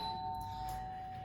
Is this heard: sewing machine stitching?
no